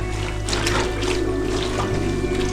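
Water pours steadily into a container to soak dirty gear, a continuous rushing splash that holds an even level without pause.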